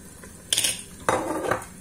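Dry pasta goes into an opened pressure cooker of mushroom sauce: a sharp metallic clatter and a second, longer rattling pour against the pot, close and loud, over a quiet background.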